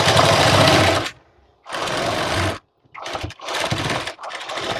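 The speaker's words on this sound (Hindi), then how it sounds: "शोल्डर पर बिल्कुल सीधी आपको एक सिलाई लगा देनी है।" A sewing machine stitching a straight blouse shoulder seam, loud close bursts of rapid needle chatter in three runs separated by brief pauses.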